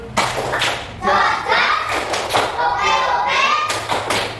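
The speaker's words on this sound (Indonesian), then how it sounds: "Presentasi sudah selesai, kita berikan tepuk salut." Classroom of sixth-grade schoolchildren at an elementary school performs a group clap cheer, loud overlapping thumps and claps mixed with children's shouting voices throughout.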